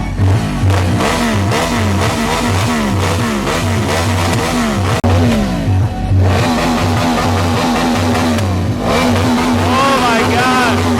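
Motorbike engine revving hard and repeatedly, loud and close, with throaty rising and falling pulls and a brief cut midway, with voices talking over the noise.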